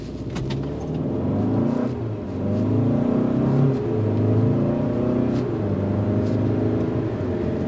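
A 2024 Hyundai Santa Fe Limited with 277 horsepower and 20-inch wheels on a test drive: a steady low cabin rumble of engine and road noise, swelling slightly as it accelerates, with no talk.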